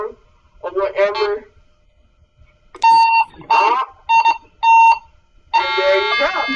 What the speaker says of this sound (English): And it's beeping to say that I found some money.